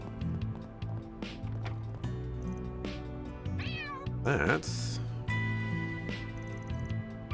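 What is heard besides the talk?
cats meowing in the video game Trails Through Daybreak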